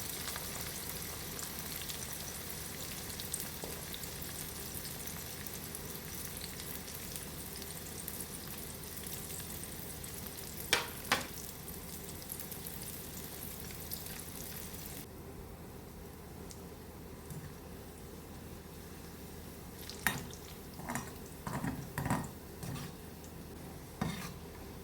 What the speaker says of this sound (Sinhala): මේ අපි ලුණු ටිකක් මේ විදිහටම රන්වන් පාට වෙනකම් බැද ගන්න ඕනේ.